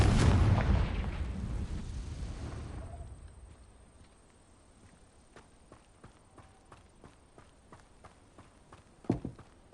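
A Confringo fire-blast spell in the Hogwarts Legacy game erupts with a loud, close burst at the very start that rumbles and fades over about three seconds, followed by quiet scattered clicks and a small crackling pop near the end.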